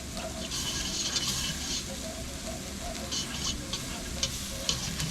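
Milk is stirred into a flour roux in a pan as the base of a broccoli cheddar soup. It gives a continuous bubbling sizzle with soft scraping strokes and occasional brighter clicks, close and fairly even.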